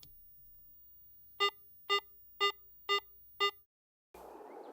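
Medium tone from a Garrett AT Pro metal detector in Pro mode, five short, evenly spaced electronic beeps heard clearly in quiet, followed by a brief silence and a burst of rustling handling noise.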